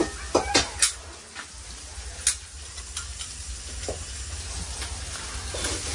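Food sizzles and fries in a village kitchen, a steady hiss running throughout, punctuated by sharp clinks and scrapes of utensils against pots, close by, with no clear talk.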